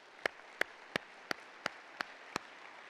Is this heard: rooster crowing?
no